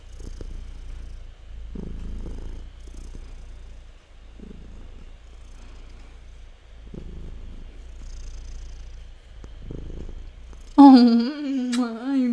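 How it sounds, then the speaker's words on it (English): A cat purrs quietly in slow, regular rumbling pulses, then a person starts talking loudly near the end. "Do you guys hear her purring?"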